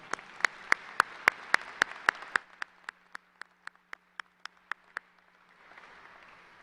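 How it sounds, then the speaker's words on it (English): Clapping at a high school graduation ceremony comes as a run of sharp, evenly spaced claps that slows and thins out, then gives way to faint room murmur. "Let's give them both one more round of applause."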